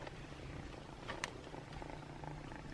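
A young kitten purrs steadily and softly up close, a continuous low rumbling drone with no talking.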